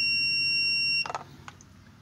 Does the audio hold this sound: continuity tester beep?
yes